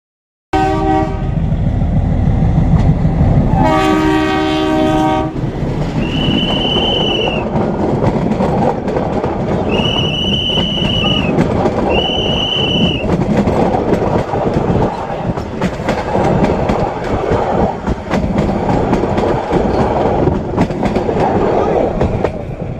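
A train rumbles loudly past at close range, its horn blaring at the start and whistle-like tones sounding several times over the continuous rolling clatter.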